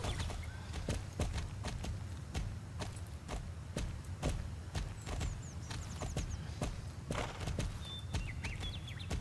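Hooves clip-clop at an unhurried walking pace, a steady sequence of crisp, close hoofbeats with faint chirps in the background, from the video game Star Stable.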